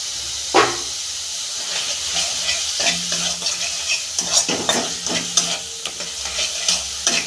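Garam masala and sugar sauté in a pan for a vegetarian dish, giving a loud steady sizzle with repeated scraping stirs and clinks of the spatula throughout.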